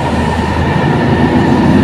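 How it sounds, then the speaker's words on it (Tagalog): A Manila MRT metro train rolls past along EDSA, a loud, close, steady rumble of wheels and cars with a faint tonal whine, filling the short moment without voices. "tapos may MRT"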